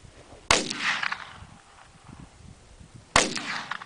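Two loud, sharp AR-15 rifle shots fired outdoors at a pumpkin target, about two and a half seconds apart, each cracking close by and ringing off in a short decay.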